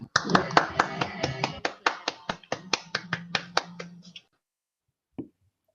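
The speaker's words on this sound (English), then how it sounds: "Can we unmute our mics and give them a round of applause?" Handclaps come through unmuted microphones on an online anniversary meeting, a dozen or so distinct, fairly close claps in a quickening run that stops abruptly, followed by one brief voice.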